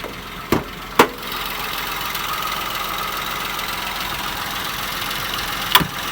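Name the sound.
2008 Toyota Yaris 1 litre petrol engine idling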